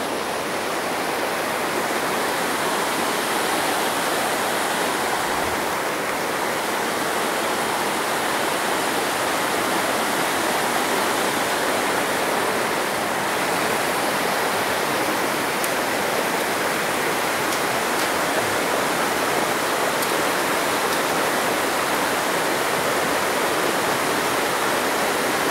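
A clear mountain river at the foot of Mount Sawal in Ciamis rushes continuously, a loud, close, unbroken wash of flowing water with no talk.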